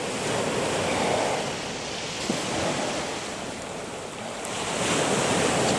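Waves breaking on a beach after rough weather, a steady broad roar of surf mixed with wind buffeting the microphone, continuous and fairly loud with no talk.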